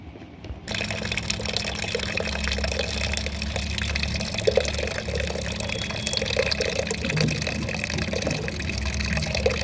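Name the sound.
pouring water into lentils (dal) in a cooking pot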